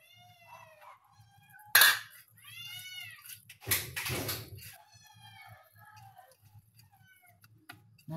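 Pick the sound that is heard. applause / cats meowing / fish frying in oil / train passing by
cats meowing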